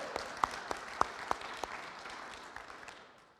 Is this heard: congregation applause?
yes